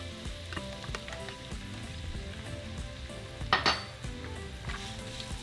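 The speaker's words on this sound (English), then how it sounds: "we're going to begin by frying our onions and chile serrano if you're using any" Onions and serrano chiles fry in hot oil with a quiet, continuous sizzle, broken by a brief clink of a utensil against the pan near the middle.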